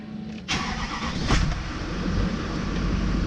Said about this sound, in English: Starting the truck up.